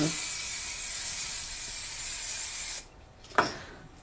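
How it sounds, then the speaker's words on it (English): A continuous hiss from an aerosol can of frosting spray sprayed on window glass for a few seconds, then it stops, followed by a brief click and a short spurt. "you can use a spray like this, which is just a frosting spray, and you can spray it on"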